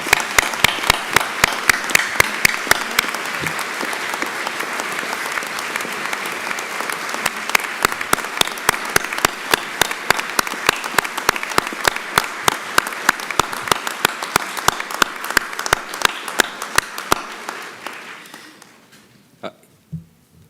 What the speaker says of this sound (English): rip-roaring applause